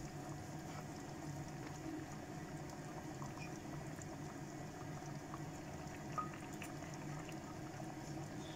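Cream is added to chicken simmering in its own juices with seasoning, giving a faint, steady bubbling and sizzling that carries on evenly throughout with no voices.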